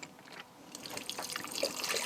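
Water trickles and splashes softly onto a cut potato in a cooking pot, growing a little busier toward the end, with no voices.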